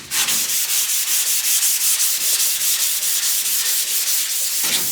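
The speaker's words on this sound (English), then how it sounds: "It should sand nice and even." Steady hand sanding of poly primer with 220 to 320 grit sandpaper, a continuous close scratchy rubbing in even rhythmic back-and-forth strokes, loud and alone with no talk.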